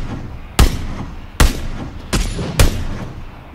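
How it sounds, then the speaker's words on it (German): Four sharp gunshots in the video game PUBG, loud cracks spaced irregularly about a second apart over a low background hum, the last one landing a headshot kill. "das war ein sicker Headshot, der letzte Schuss"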